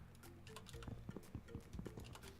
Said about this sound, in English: We got a couple of horses.